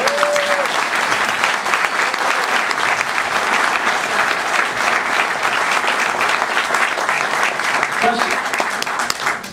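An audience at a panel event about Laurel Canyon music claps in sustained, dense applause that fills the room steadily, loud and close, with a brief voice heard near the end.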